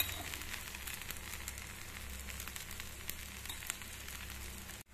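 Adai dosa, a thick lentil pancake, frying in oil on a pan, giving a steady, quiet crackling sizzle with faint pops, alone and unbroken until an abrupt cut at the end.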